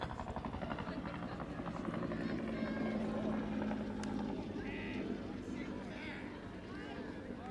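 A news helicopter's steady rotor drone comes through a broadcaster's earphones at a 1992 middle school baseball game, loud and continuous with crowd and field noise mixed in.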